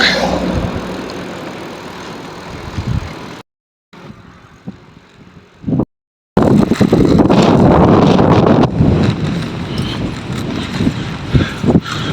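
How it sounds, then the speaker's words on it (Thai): Strong wind blows outdoors beside rice fields, loud, rumbling and buffeting the microphone, with two brief silent breaks before the gusts return at full force. "วันนี้ลมแรงครับ เริ่มตั้งแต่เมื่อวานนั่นแหละลม ลมแรงมาก"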